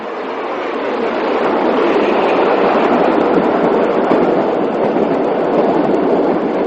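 Great Western King class steam locomotive hauling the Bristolian express, a loud continuous roar of a passing train with wheel rumble and clatter building and holding steady, no voices.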